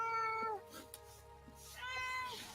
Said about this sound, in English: Celebrity cat making a cameo.